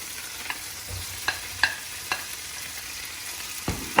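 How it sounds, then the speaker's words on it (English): Onions hitting hot oil in a pan with melted chilies and eggplant for spaghetti in salsa piccante, a faint steady sizzle broken by several short stirring clatters. "I'm going to go ahead and add my onions to the pan"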